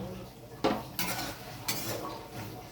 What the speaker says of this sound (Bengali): এবার আমি ঢাকাটা খুলে দেখে নেব বেগুনটা সেদ্ধ হলো কিনা।